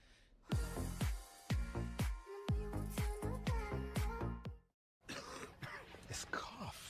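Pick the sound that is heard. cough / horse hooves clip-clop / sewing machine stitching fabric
cough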